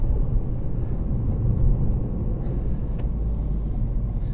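Steady low engine rumble from inside a small car with a 500 Nm engine accelerating on the road, a continuous droning cabin hum with no talk over it.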